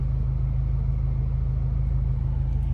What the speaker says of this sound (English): This traffic sucks